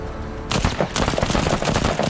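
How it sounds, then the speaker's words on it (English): A weapon in the game Menace on sustained fire mode unleashes a dense, loud burst of rapid shots after a brief quiet start, the eight-round salvo rattling continuously to the end. "So let's actually try sustained fire."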